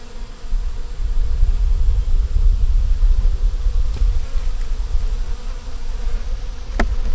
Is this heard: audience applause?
no